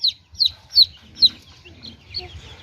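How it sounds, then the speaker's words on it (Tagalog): Young chicks peep in a quick series of four sharp, high chirps, followed by softer, scattered peeps and faint background chirping, fairly close. "nag-add tayo ng mga sisiw mga kabagis"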